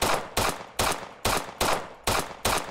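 Glock pistol shots in the game Operation Harsh Doorstop, seven sharp loud reports fired at a steady, quick rhythm, each followed by a short decaying echo, with no voices.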